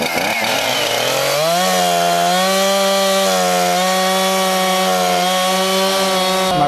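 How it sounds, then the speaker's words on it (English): A chainsaw drones steadily at high pitch, loud and close, its note dipping slightly as it bites into wood, running continuously without pause, cutting after Hurricane Charley. "The sound of chainsaws has replaced the sound of the seashore and the birds."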